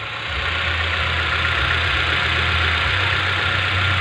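A Hyundai i20 engine idles with a cylinder misfire, a steady close mechanical drone with a low uneven throb running through it and a constant hiss, no talking.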